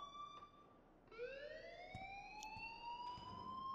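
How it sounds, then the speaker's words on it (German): Electronic alarm siren from the school in the game Life is Strange, a wailing tone that sweeps upward and holds, with faint thumps and room noise beneath. "please turn off that alarm since that's your job"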